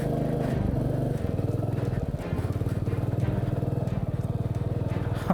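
A low-seat motorcycle engine labors steadily while climbing a steep, badly broken road near a village in Darjeeling, its rapid throbbing pulse close and loud throughout with no talk over it.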